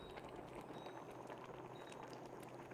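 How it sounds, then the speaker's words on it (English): Braised steak and onions bubble at a full boil in a pot, a faint, steady simmering hiss with small popping bubbles and no talking. "now what we're doing is it's all boiling, all those flavours are in now"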